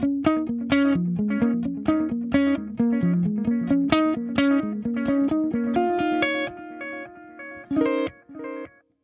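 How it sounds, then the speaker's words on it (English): Electric guitar played through an HX Stomp with an echo effect, a run of bright picked notes with repeats trailing behind each phrase, loud and alone with no talking. "An echo."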